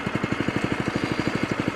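A lawn mower engine runs steadily with a fast, regular chugging pulse, close and moderately loud, with no talk over it.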